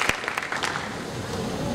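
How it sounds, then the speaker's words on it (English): Audience clapping after an Indian Navy band performance, a few sharp claps at first settling into a brief, dense patter of applause. "Give them a huge round of applause"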